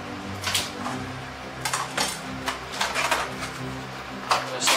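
Cut oranges and lemons drop into a lobster cooking pot with several light clattering knocks against metal and splashes, close and fairly quiet, spread unevenly over a few seconds.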